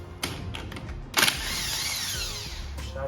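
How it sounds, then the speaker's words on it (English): An impact wrench loosens a bolt on a Harley-Davidson Street Glide engine during separation from the transmission, a short rattling burst followed by a sustained whirring mechanical run, fairly close and loud. "I'm gonna use the impact."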